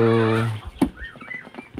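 Chickens in a backyard flock give a short call followed by soft clucks and rustling nearby, with a person speaking over them.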